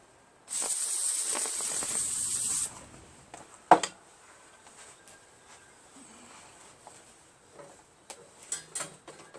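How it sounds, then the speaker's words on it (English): A single aerosol spray of Lucas Oil brake parts cleaner hisses steadily onto a towel for about two seconds, close by, followed by a sharp knock and faint rustling. "Going to spray some on a towel."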